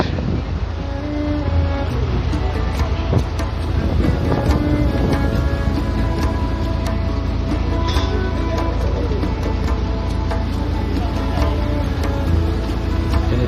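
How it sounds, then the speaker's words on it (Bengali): Strong wind buffets a boat on a Sundarbans river trip, a loud, constant roar of gusts and microphone rumble with the engine and water churning beneath. "প্রচন্ড হাওয়া।"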